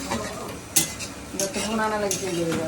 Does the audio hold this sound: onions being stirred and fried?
yes